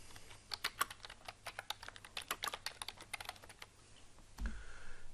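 Rapid, light clicking of keys on a computer keyboard, quick irregular taps up close and fairly quiet, ending with a soft thump.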